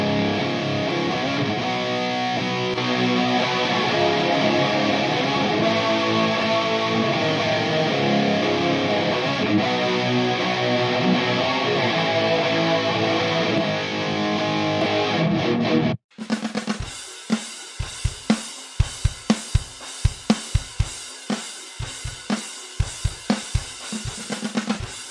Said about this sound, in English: This is a chorus plugin with delay, the rate, the depth, and also the feedback and the mix knob with dry and wet.